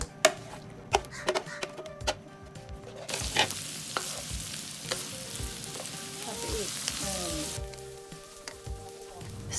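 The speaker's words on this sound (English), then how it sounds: "We start by stir frying the shallots in vegetable oil on high heat." Vigorous sizzling of shallots stir-frying in vegetable oil on high heat, with scraping and clacking of a utensil against the pan, loud and close throughout.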